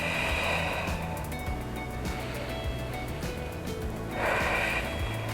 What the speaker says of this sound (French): On prend 2 bonnes respirations.